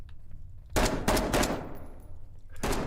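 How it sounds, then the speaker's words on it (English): Automatic gunfire in the video game SCP: Pandemic comes in loud, close bursts of rapid shots with brief gaps between them, and no one talks. "the gunfire is quite loud"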